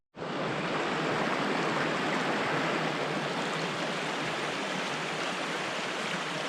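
The outdoor stream at the outlet of Olallie Lake, with snowpack around it, makes a steady, loud, broadband rush that starts abruptly and never lets up.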